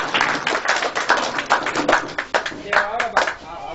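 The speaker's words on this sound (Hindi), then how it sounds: "एक बार जोरदार तालियां बजाएं उनके पिताजी।" A crowd claps to welcome a guest's father at a gathering in Barmer, giving loud, uneven bursts of hand claps with a talking voice mixed in among them.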